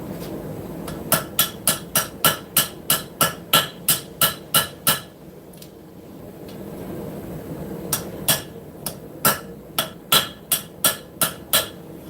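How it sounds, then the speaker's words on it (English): An old ball peen hammer strikes hot metal at a forge in steady, ringing blows, a long run of about a dozen evenly spaced hits, then a pause and a second, shorter volley. "Switch back to the old ball peen."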